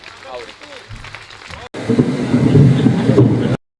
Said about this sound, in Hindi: एक बार जोरदार हाथ उठा के तालियां बजाए रितु गोयल जी के लिए।